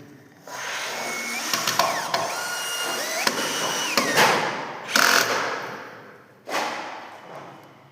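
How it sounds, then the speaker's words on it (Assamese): An electric screwdriver machine drives a screw into a wooden door frame, a steady motor whine running throughout with brief louder bursts and thumps as the screw bites and seats. "দেখিলে মেচিনটো কেনে কৰি মাৰি দিলো স্ক্ৰুটো"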